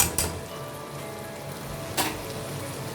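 Boiled dal goes into a hot pan of bitter gourd, giving a steady close sizzle with two brief bursts of clatter, one at the start and one a little later, and no voices.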